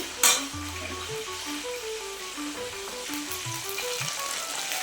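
Chicken pakoda pieces drop into hot oil with a sharp initial splash, then a steady close sizzle and bubbling of frying, with light stirring clinks.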